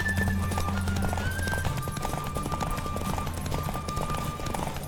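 Steady hoofbeats of a galloping horse in The Witcher 3: Wild Hunt drum on without pause, mixed into a dense wash of game music and ambient noise.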